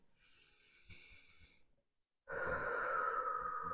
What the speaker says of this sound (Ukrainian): вам має бути комфортно і починаємо дихати